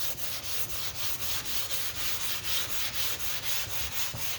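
Sandpaper rubbing back and forth over 2K primer along a car body line, a close, steady rhythmic scraping with regular strokes about every third of a second, no voices.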